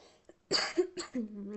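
A couple of short, sharp coughs close by, followed by a throat-clearing sound, with a bit of voice mixed in.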